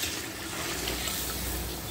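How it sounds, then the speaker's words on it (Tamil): Water poured into a cooking pot for dalcha with mutton bones, a steady, moderately loud splashing and gurgling pour throughout. "நம்ம தால்சாலை எலும்பு வேகிறதுக்கும் காய்கறி வேகிறதுக்கும் தேவையான தண்ணியை நம்ம இப்போயே சேர்த்துடலாம்."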